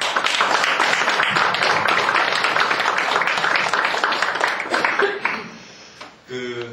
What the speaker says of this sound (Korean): 우리 너무 아름다운 찬양을 저희들에게 전해준 우리 김 선생님께 박수 한번 드려도 되겠죠?